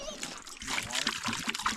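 Water pours and splashes into a dog water bowl, a brief trickling splatter heard close up while people talk over it.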